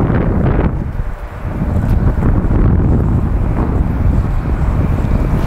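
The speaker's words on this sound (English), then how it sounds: "Now, we're a little windy today." Steady, heavy wind buffeting the microphone with a loud low rumble that swells and eases slightly throughout.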